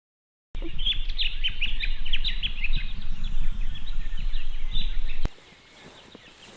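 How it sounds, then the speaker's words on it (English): Several birds chirp and tweet in quick, scattered bursts in the bush over a steady outdoor rumble, moderately distant, before the sound drops away abruptly. "You can hear a few birds sort of chirping in the background"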